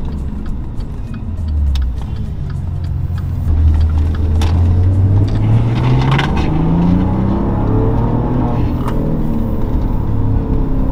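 A Maserati Ghibli revving hard, engine note sweeping upward through the revs toward a limiter above 6000 rpm: a loud, close, rising growl that builds in pitch over several seconds and then holds, with no talk.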